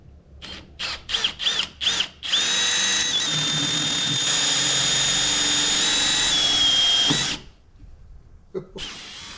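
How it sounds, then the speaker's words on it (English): A power drill fitted with a hole saw cuts a drain hole through a boat hull, opening with several short bursts, then one long loud steady whine that stops abruptly, followed by quieter handling noise. "let me clean this out and we'll get the other hole drilled"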